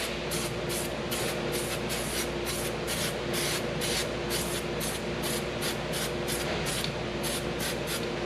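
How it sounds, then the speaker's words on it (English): Copper rust-protection spray is applied to brake parts of a Genesis GV70, a string of short, regular hissing bursts repeated steadily at close range. "Then I'm just gonna spray some copper spray here, rust protection"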